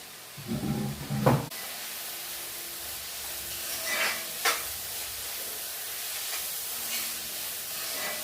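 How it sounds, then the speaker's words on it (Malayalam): Rice being stirred in a pot for chicken biryani, a brief clattering scrape at the start, then a faint, quiet hiss with a couple of soft stirring clinks. "അപ്പം ഇതൊന്ന് ഇളക്കി കൊടുക്കാം അരി അരി ഇട്ട വെക്കും ഇളക്കി വെക്കാം"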